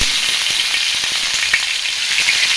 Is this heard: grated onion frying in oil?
yes